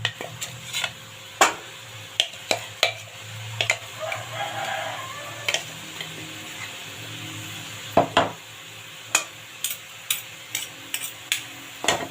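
Curry paste being stir-roasted in a pan, with repeated sharp metallic clicks and scrapes of a utensil against the pan in an uneven rhythm over a faint sizzle, close by.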